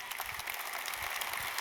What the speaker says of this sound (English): we need to give you another massive round of applause